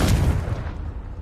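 A Confringo spell cast in a Hogwarts video game erupts as a loud, booming blast with a heavy low rumble that fades out over about a second, heard alone.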